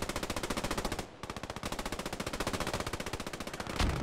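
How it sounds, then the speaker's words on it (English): Machine gun fire in the World War II shooter game Post Scriptum: a fast, evenly spaced stream of close, loud shots, briefly cut off near the second mark before the burst carries on steadily. "The machine guns are opening fire now for the German team."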